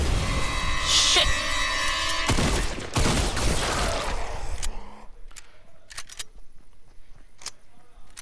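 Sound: shotgun or sniper gunfire in video game

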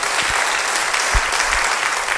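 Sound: congregation applauding

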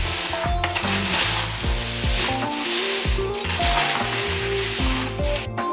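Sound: stirring spice masala with Kashmiri chillies in a pan

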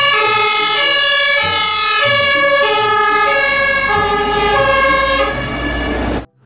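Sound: fire engine siren

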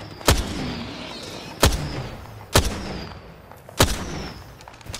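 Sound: gunshots in the video game Apex Legends

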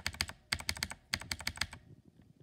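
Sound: poppy mechanical keyboard switches typing

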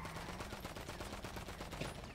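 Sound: gunfire shooting at car tires in a video game

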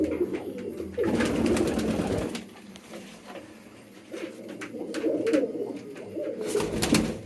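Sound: pigeons cooing

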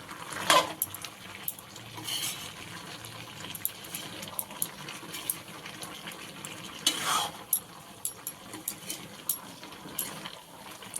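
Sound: stirring garam masala into jackfruit and prawn curry

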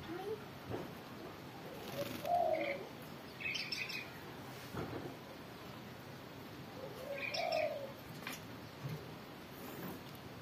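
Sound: jalak kebo (Javan myna) bird calling while being bathed

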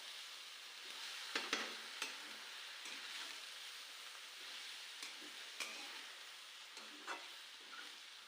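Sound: stirring and sautéing vegetables in a pan

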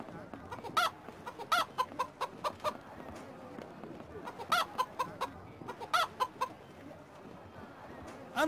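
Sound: chicken clucking in The Road to El Dorado video game

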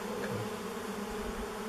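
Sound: honeybees buzzing in an old feral hive, probably Carniolan

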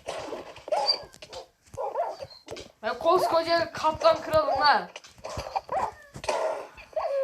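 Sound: dog whimpering in a video game

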